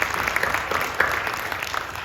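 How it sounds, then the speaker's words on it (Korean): Congregation clapping during a New Year blessing revival service at a Korean Full Gospel church, a steady dense patter of many hands filling a large worship hall, fairly loud and continuous for about two seconds with no talk over it. "박수를 격려해 주시고 고맙습니다."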